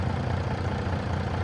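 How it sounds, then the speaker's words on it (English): Tractor engine in Farming Simulator 22 revving steadily while driving the PTO, a continuous loud low drone with no break and no talking. "you do get the revving of the engine with the PTO"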